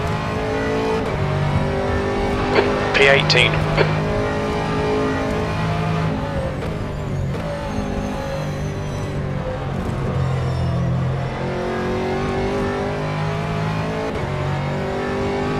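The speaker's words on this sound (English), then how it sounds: "There's a car leaving the pits." A race car engine droning and revving steadily as cars circulate at Sebring in a racing game, one car pulling out of the pits, with a continuous loud roar and a brief radio voice.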